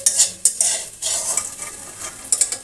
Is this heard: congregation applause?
no